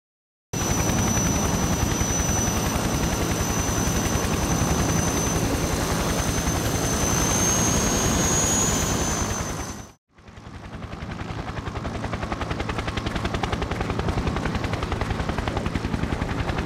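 A military helicopter from the video game Conflict: Desert Storm flies in on a covert insertion, its loud, steady rotor and engine roar filling the scene before cutting out briefly and then returning at full strength.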